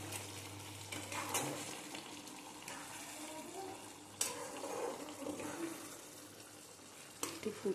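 Spiced yogurt chicken curry is stirred in a pan over a soft, continuous sizzle, with occasional spoon clinks against the pan, quiet and close, with no talk.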